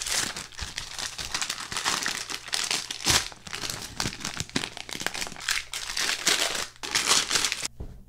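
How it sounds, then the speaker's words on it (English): Foil flipbook card packs from a PeeWee's Playhouse set are torn open up close, with loud, crinkly ripping and crumpling in rapid bursts throughout. "The sound of just tearing these open."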